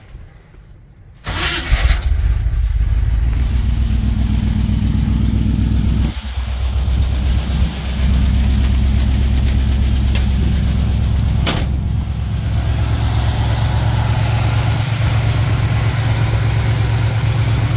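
A 1969 Chevy engine cranks, catches, and settles into a loud, steady, close-up idle that holds with only slight wavering.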